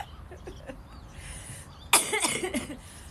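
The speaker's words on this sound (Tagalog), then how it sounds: "I'm sorry about my cough." A woman gives a single harsh, sharp cough close by, a sudden loud burst that follows a stretch of quiet low sounds.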